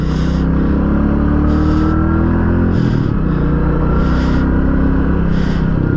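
A 2021 Royal Enfield Classic 350 BS6 motorcycle engine runs with a deep, loud, steady thump close by, with a few brief airy whooshes over the rumble and no speech.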